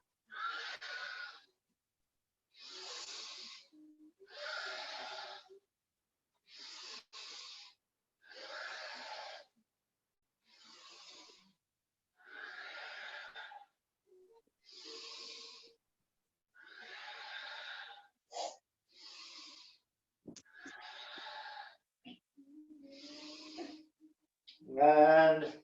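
Deep rhythmic breaths during a yoga cat-cow sequence, roughly a dozen separate breathy inhales and exhales spaced about two seconds apart, close and fairly loud, with a louder rasping breath at the very end.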